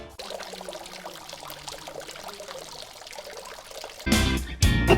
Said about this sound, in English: To flush the waste, open the handle at the bottom of the bowl, allow the contents to drop before closing off.